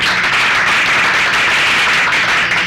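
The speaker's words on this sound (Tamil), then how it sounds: "நீங்க ஒத்துக்கிட்டு உங்க சம்மதத்தை கைத்தட்டல் மூலமா தெரிவிச்சா" Wedding guests applaud together in a steady, dense burst of clapping that holds at full loudness throughout, with no voices standing out.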